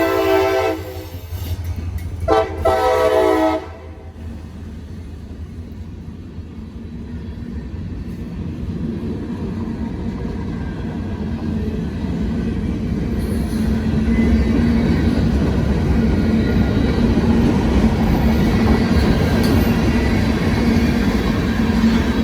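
A grain train with no caboose rolls past at close range, a loud steady rumble of wagons and wheels that builds and holds, preceded by a brief blast of the locomotive horn; the wheels are said to have severe flat spots.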